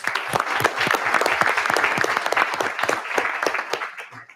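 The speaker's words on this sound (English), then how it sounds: "if we could just everyone give him a round of applause, please" A round of applause in a legislative committee hearing room, a dense, steady burst of clapping from a seated crowd lasting a few seconds before tapering off.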